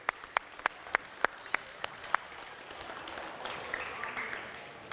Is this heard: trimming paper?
no